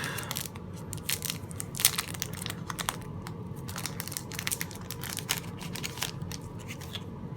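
Packaging of Tiny Towns game cards being torn open and handled, with steady crinkling, rustling and sharp plastic crackles over several seconds, close up and without talk.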